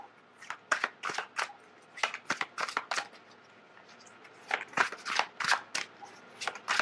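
Tarot cards are shuffled by hand in quick bursts of crisp riffling and slapping, close and fairly quiet, with short pauses between rounds and a denser flurry toward the end.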